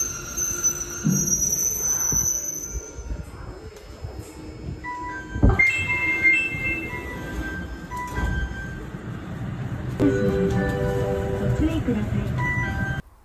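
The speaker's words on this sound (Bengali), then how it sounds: "আমাদের ট্রেন চলে আসছে" A train pulls into a station in Japan on the way to Sendai, its tonal squeal and rumble building and rising near the end, with a brief thud midway and people talking throughout.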